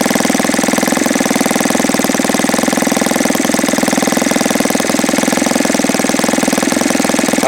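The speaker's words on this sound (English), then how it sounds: "I want to see a nice stable idle so that I can see how it's responding to the typical 4-stroke pinch test." An OS FS 120S III four-stroke model aircraft engine with a propeller idles at roughly 2400 RPM, a loud, close, steady rapid putter that stays even throughout with no talking.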